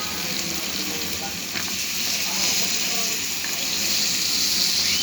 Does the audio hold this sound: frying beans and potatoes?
yes